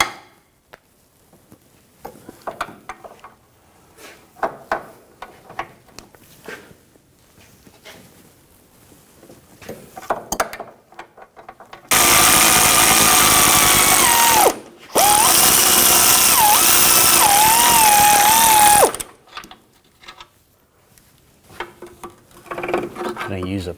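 An 18mm socket and wrench loosen a front lower control arm bolt on a 2004-2009 Audi A4 Quattro, with scattered tool clanks followed by two long, loud, steady power-tool runs, a short break between them, and speech elsewhere in the clip.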